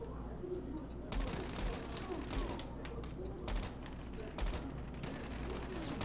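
A battle royale shooter played on the Gameloop emulator with a key-mapped controller, with repeated bursts of automatic gunfire over a constant background of game ambience.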